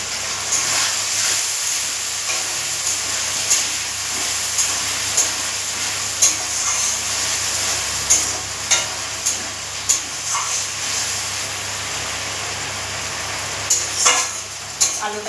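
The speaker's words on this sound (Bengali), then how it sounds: "আগে থেকে পেস্ট করে রাখা আদা আর জিরে বাটা দিয়ে দিলাম" Ginger and cumin paste fries in a pan beside nearly cooked potatoes, hissing and sizzling continuously, with occasional utensil taps and stirring knocks over the steady frying noise.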